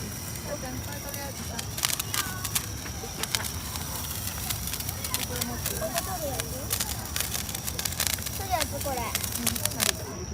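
Senko hanabi sparklers crackle in quick irregular pops and fizzes at an outdoor fireworks evening, continuous and close, under frequent talk from children and adults.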